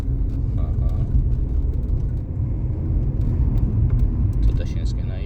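A car's engine rumbles steadily from inside the cabin during a driving lesson as the learner presses the gas, the low drone continuous and fairly loud, with occasional faint clicks; voices speak over it.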